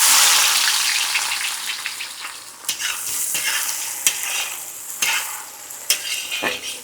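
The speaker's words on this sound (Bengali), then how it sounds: "পেঁয়াজগুলো ভালো করে গোল্ডেন ফ্রাই করে নেব।" Onions frying golden in oil with cinnamon, cardamom and cloves for chicken biryani, a loud continuous sizzle broken by several sharp scrapes and knocks of a spoon stirring the pan, no voices.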